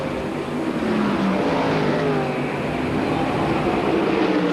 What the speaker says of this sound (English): See him just going by a lap car.